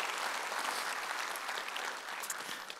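Congregation at a church service breaks into steady, dense hand clapping, a full room applauding continuously at even loudness without talk.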